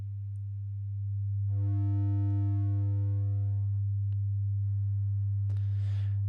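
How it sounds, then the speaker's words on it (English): A synth tone with its drive distortion turned up sits as a low steady hum, and a brighter, buzzier layer of overtones swells in and then fades. "see how much more high end there is in this distortion"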